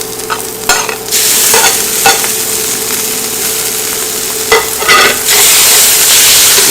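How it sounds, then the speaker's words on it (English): Spaghetti is stirred in a hot, sizzling pan for a baked cheese dish, with a loud steady frying hiss broken by several scraping, clattering stirs of the utensil against the pan. "We're going to stir it up."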